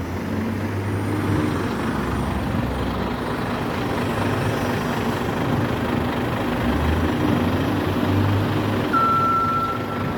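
A truck rumbles steadily at a port container yard, its engine drone constant and fairly loud, with a single brief reversing beep near the end.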